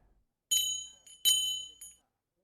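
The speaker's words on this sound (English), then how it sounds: "Then a bell began to ring." A bright bell rings in two quick bursts, each ringing tone decaying briefly, with quiet silence before and after.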